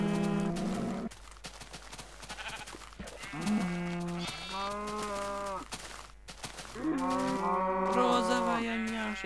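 Minecraft cows mooing in a farm pen, several drawn-out harmonic lowing calls overlapping one another, loud and close, with no talk over them.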